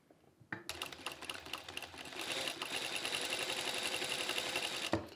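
An industrial sewing machine fitted with a gathering/shirring foot stitches fabric, with a quiet mechanical clicking at first, then a sustained fast whirring that grows steadily louder and ends with a brief clunk.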